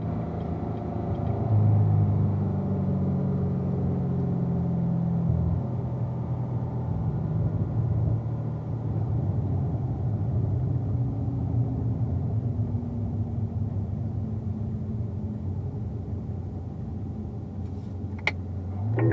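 A car being driven on a race track, heard from inside the cabin as a continuous loud engine rumble with shifting pitch while it follows another car, steady throughout with a sharp click near the end.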